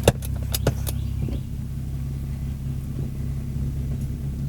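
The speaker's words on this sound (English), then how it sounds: "The tire is rubbing, bruh." A lowered BMW E46 on BC Racing coilovers rolls along with a low rumbling drone of tire rubbing against the body, starting with a few sharp knocks and clicks and then settling into a constant close-up hum.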